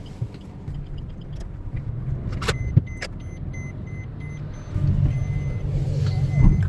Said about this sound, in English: let's start driving because we have to head on